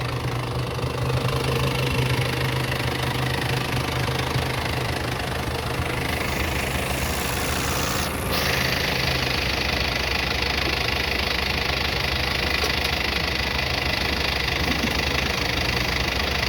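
A Kubota excavator's engine runs steadily and smoothly for the whole stretch, a close, even mechanical drone with no voices over it.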